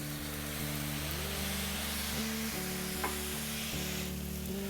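Plum-teriyaki beef fried rice sizzles steadily in a hot pan, a continuous close frying hiss with a low hum of background equipment and no talking.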